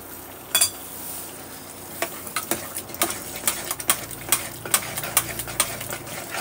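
A spoon stirs raisins, almonds and cashews into carrot halwa in a pan, giving repeated close clicks and scrapes over a soft background sizzle, in an uneven rhythm.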